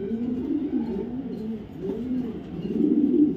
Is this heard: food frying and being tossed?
no